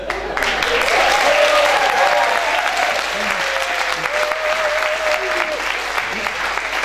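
An audience applauds, a dense, loud wash of clapping sustained for several seconds, with a voice speaking over it.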